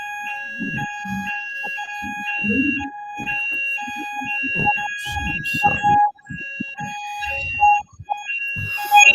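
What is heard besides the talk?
fire alarm going off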